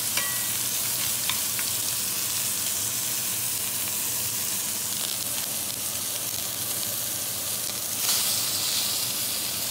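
Eye round steak sizzles in butter in a cast iron skillet while being basted with a spoon, giving a loud, steady hiss with occasional spattering crackles.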